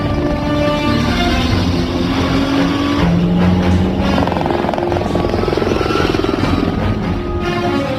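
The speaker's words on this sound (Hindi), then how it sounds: "वो हेलीकॉप्टर से आ रहे हैं।" Helicopter approaching during a movie car chase, a loud steady rotor and engine roar mixed with car engine noise, building continuously with a rising pitch sweep.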